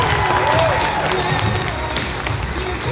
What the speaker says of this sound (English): Ladies and gentlemen, another round of applause for contestant number 2.